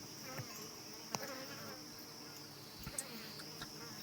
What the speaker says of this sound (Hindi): ये इनकी पालतू मधुमक्खियाँ हैं, देखो आना जाना लगा पड़ा है इनका।